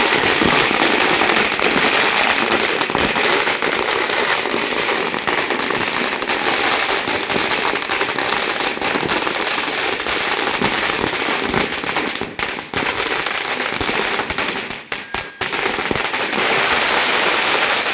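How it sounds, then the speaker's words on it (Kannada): Firecrackers burst in a dense, continuous crackling barrage during a local festival procession with puja, loud and close, with only a couple of brief lulls and no clear talk. "ಅಲ್ಲಿಂದ ಬಂದು ಮತ್ತೆ ಇಲ್ಲಿ ಪಟಾಕಿ ಹೆಚ್ಚು ಮಾಡೋರೆ."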